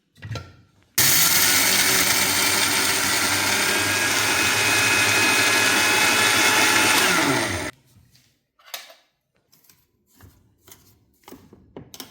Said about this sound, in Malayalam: മിക്സിയുടെ ചെറിയ ജാറിലോട്ടിട്ട് നമുക്കിത് തരിയായിട്ട് പൊടിച്ചെടുക്കാം